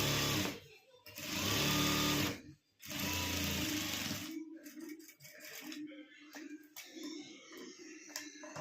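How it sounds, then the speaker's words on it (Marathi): A sewing machine runs in bursts, stitching cloth for a homemade doormat, with rapid whirring runs separated by short pauses and softer handling sounds toward the end. "आता याच्यावरती अशी टीप मारून घ्यायची आहे परत हे बघा असा हाताने सवान करीत चालायचं आणि टीप मारी चालत आहे"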